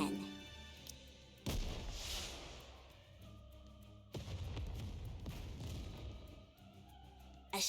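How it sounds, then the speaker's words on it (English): Two heavy, booming blasts from a rocket launcher shell firing and exploding across a snowfield in the video game Goddess of Victory: NIKKE, each a sudden loud burst that rumbles and fades, with game sound continuing between them. "a shell flies from the rocket launcher. And a resounding explosion causes the entire snowfield to be blanketed in thick plumes of white smoke."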